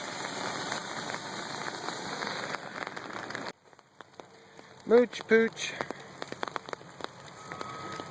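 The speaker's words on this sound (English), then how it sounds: "You can see it's raining a lot." Heavy rain pours steadily outdoors by a water drain, a dense hiss that drops away partway through, followed by quieter rain with brief speech.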